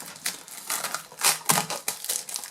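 Crinkling and tearing of plastic wrap being cut open on a Xiaomi Redmi Note 10 phone box, a close series of irregular crackly rips and crumples lasting a couple of seconds.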